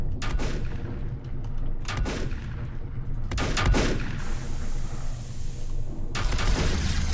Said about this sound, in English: Stop shooting my ship!